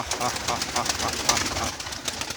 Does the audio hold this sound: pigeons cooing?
yes